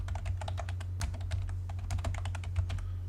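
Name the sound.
typing a keyboard shortcut on a computer keyboard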